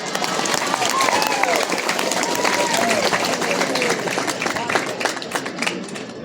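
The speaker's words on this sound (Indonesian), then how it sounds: "Tepuk tangan." Audience applause from a religious gathering at a school in Pinrang, South Sulawesi: dense, loud clapping that swells and holds, then thins slightly near the end, with voices talking over it.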